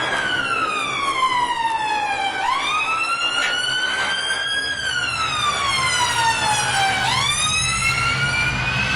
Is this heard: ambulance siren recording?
yes